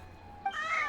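A single cat meow, rising and drawn out, comes from the video game Genshin Impact, close and clear over a quiet game backdrop.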